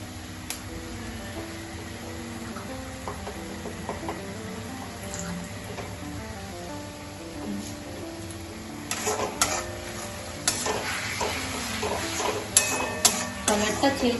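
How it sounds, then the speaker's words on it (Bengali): Chicken is stirred in masala while round potato slices fry in a pan, giving a steady low sizzle with scraping utensil clatter and metallic clinks that grow busier and louder in the second half. "এই যে চিকেনের মাংস মশলা কষাচ্ছি, আর এই যে আলু ভাজছি"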